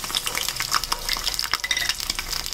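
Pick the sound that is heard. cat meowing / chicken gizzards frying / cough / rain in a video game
chicken gizzards frying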